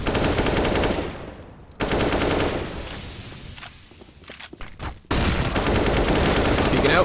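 Rapid automatic AK rifle fire on the Cache map in Counter-Strike during a pro match, two loud sustained bursts separated by quieter stretches of scattered shots and footsteps.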